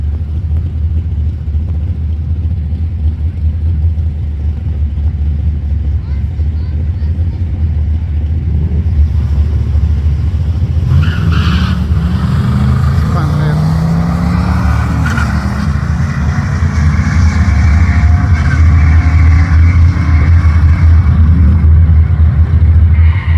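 A sportsman bracket drag race car makes a test pass at a strip on a hot day: a loud, steady engine rumble and drone that builds and roars as the car launches and pulls away, continuous throughout.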